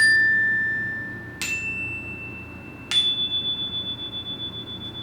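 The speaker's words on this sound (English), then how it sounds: "and then listening carefully for my chime" A yoga chime is struck three times at a slow, even pace, each bright metallic tone ringing on and fading in a quiet room, with no talking over it.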